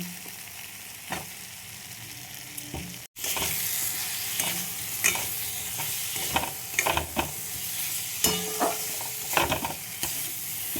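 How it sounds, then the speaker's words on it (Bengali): Potatoes fried with spice paste in a hot pan give a constant sizzle, broken by repeated spoon scrapes and stirring clatter that grow busier after a brief pause near the start, with no voices. "এবার দিয়ে দেবো আলুগুলো, আলুগুলো মশলার সাথে কষিয়ে নেব।"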